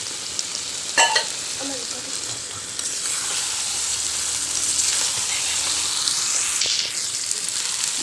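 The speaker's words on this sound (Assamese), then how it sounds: "এতিয়া মই চব্জিখিনি লৰাই অকণমান দেৰি ভাজি ল'ম।" Dry fish and vegetables stir-frying in a pan: steady crackling sizzle with a few sharp knocks and scrapes of the spoon early on, then constant frying hiss.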